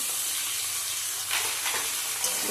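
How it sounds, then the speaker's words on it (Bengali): Chilies and eggplant fry in oil in a pan, giving a steady, close sizzle throughout with brief louder crackling bursts partway through. "ভালো করে ভেজে নেবো"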